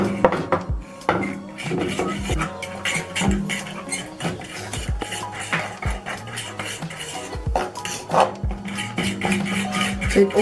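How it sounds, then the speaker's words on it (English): A utensil stirs and mixes food in a bowl with repeated clinks and scrapes against the sides. The stirring is close and keeps an irregular, busy rhythm. "So now I'm just gonna mix it all together. But I keep on stirring."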